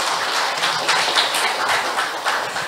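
An audience at a residents' briefing on the Bakdal Smart Valley project applauds the mayor, a steady wash of many hands clapping at moderate loudness throughout.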